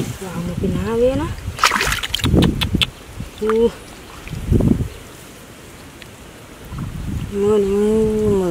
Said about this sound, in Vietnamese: Mưa nó mưa.